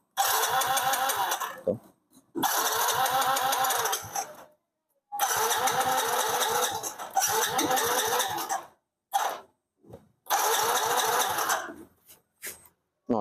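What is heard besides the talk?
Yamaha Mio GT scooter engine starting and idling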